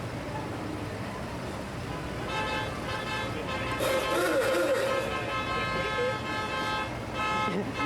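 An old car passes at an outdoor Fête nationale du Québec street party, a low engine rumble mixed with a sustained horn toot, with crowd chatter and voices throughout.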